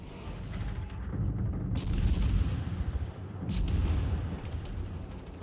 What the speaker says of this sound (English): I'm just going to turn around, start shooting